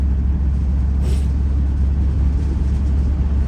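A 1979 Camaro barn find with wobbly, dry-rotted tires and T-tops cruises at about 45 mph, giving a loud, steady low engine and road rumble throughout with a brief higher whoosh partway.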